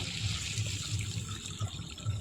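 Water poured into a cooking pan with fried egg-coated eggplant pieces, a brief steady splashing gush heard close and fairly quiet.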